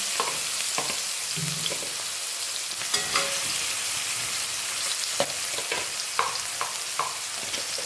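Cumin seeds, asafoetida and garlic cloves fry in hot oil on a lowered gas flame while chopped vegetables go in. A steady, close sizzle runs throughout, with scattered small pops and knocks from stirring.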